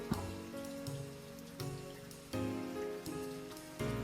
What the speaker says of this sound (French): Alors il pleut, alors depuis 24 heures, il ne fait que pleuvoir.